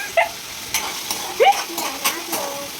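Tomatoes sizzling in a frying pan in a home kitchen as a spoon stirs them, with a steady soft fry broken by several distinct scraping stirs and clinks at irregular intervals.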